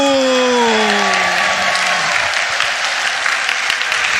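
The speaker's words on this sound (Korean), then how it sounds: "하나님의 성령님께 영광의 박수" Congregation at a large Sunday united worship service in Gwanghwamun breaks into dense, sustained applause, a steady wash of many hands clapping while a fading tonal note trails off at the start.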